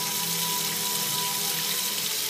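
Cold tap water runs steadily into a sink as meat is rinsed, a continuous even splashing stream with no talk.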